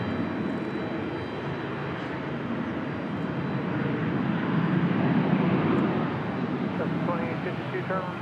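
An Airbus A320 jet airliner departing Raleigh Durham airport gives a steady, broad roar that swells slightly midway and stays constant throughout.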